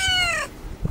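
A cat gives one clear, rising-and-falling meow up close, followed by soft low rustling noises.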